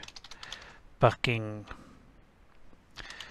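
Keys clatter on a computer keyboard while text is entered in Saola Animate animation software, with short bursts of typing at the start and end and a voice speaking in between.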